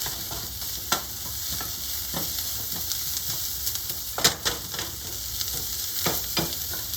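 Garlic and thyme sizzle in a pan while being stirred, a constant close frying hiss punctuated by a few sharp utensil scrapes and taps, no voices.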